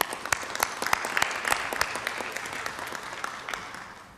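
Applause at a city council meeting, a room of hands clapping at once, loud at the start and then thinning and fading over a few seconds, with no talk over it.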